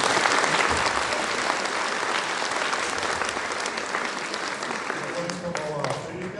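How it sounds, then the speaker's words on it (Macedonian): Sustained audience applause at an annual folk ensemble concert in Demir Hisar, dense and even for several seconds, tapering slightly with faint voices near the end. "Ќе ве замолам за еден аплауз"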